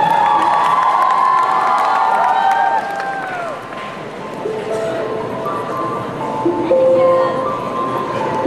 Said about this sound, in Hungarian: Nagy tapsok neki!